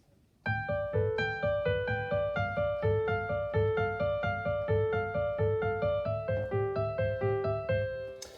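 A piano plays the right-hand melody of a song, a repeating line of even, flowing notes, the same short pattern cycling steadily, clear and unaccompanied.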